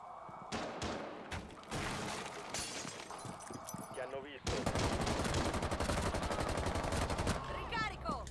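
Rapid automatic gunfire and scattered shots from a Rainbow Six Siege match, dense bursts building into a sustained loud volley near the end, with people talking over the shooting.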